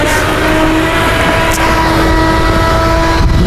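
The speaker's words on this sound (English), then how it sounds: "so let's get the PTO going here." A tow truck's engine runs with its PTO engaged, a loud steady close drone with a constant whine and no break.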